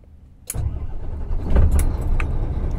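A Howo 400 dump truck's diesel engine cranks with a sudden starter whine and then catches, settling into a loud, rough, close idle.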